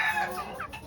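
A pure white Kelso gamefowl gives a short, close cluck, one brief call with no other sound.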